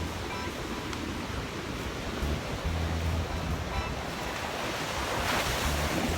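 Ocean surf washing and breaking along a beach on a windy day, a steady broad wash of water with heavier rolling swells near the end, wind buffeting the microphone throughout.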